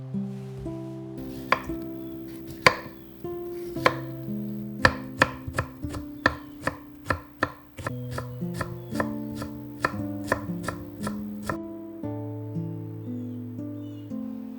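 A knife chops ingredients finely on a cutting board for Korean pot rice (sotbap), giving a brisk series of sharp, close chops that speed up into a steady rhythm over soft background music.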